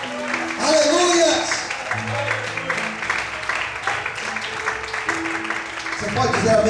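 A church congregation applauds in a steady, dense patter for several seconds, mixed with voices and music-like tones in a large worship hall.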